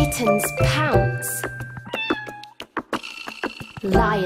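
Several high, rising meows from a kitten sound up close, mixed with other clicks and chirps, then a final meow at the end.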